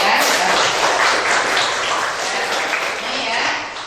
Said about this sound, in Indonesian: Kita kasih tepuk tangan buat Mas Iqbal dan Mbak Lulu ya.